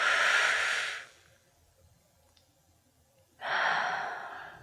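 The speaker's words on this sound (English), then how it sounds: "nice deep breath in." A slow, deep inhalation taken during an anesthesiologist's breathing check, heard twice as a long, soft airy rush, then a quiet pause, then another breath, close and intimate with no talking.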